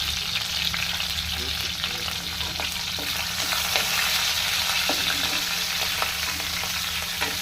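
Green chillies and curry leaves fry in hot oil for a paneer masala curry, giving a steady, loud sizzle throughout with scattered small pops and scrapes of stirring.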